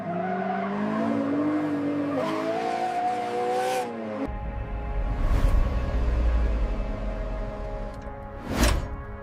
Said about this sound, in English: Mastering the drift.